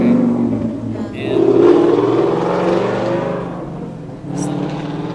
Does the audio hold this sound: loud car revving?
yes